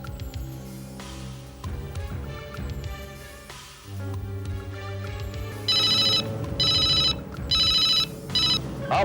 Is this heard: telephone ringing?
yes